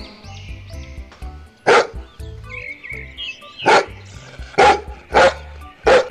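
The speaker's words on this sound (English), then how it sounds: "D for dog." A dog barks in sharp single yaps, about five spaced out over a soft tinkling melody.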